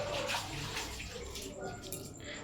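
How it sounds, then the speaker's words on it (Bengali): Tap water gushes into bottles at home, a close, splashy pour whose pitch shifts as each one fills, with a brief faint voice in the middle. "এই যে বোতলগুলো এখন ভরবে"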